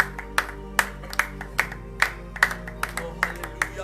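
A church congregation clapping in a steady, even rhythm during worship, roughly two claps per second, over a sustained low musical drone.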